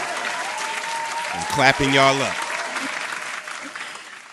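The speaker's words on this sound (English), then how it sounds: "Hold on, let me clap that up." Canned applause effect played by a morning show host, a broad burst of clapping running throughout beneath the host's voice, with a brief spoken interjection in the middle.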